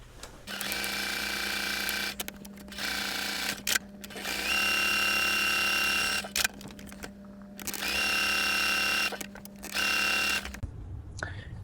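Sewing machine stitching quilt pieces: several bursts of close, steady motor whir with rapid needle clatter, separated by short pauses, over a constant low hum.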